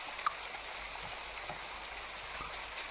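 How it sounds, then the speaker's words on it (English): Soft, steady rain ambience from a video game, a continuous hiss of falling drops on surfaces with a faint patter, heard alone at low level. "I think it's nice to have the rain."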